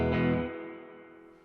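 A single guitar chord rings through the Tall Bird Reverb plugin at default settings with every control at noon, struck once and decaying into a reverberant tail.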